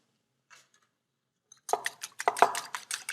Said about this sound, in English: we'll crack a couple of eggs